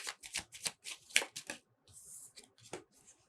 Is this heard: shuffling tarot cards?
yes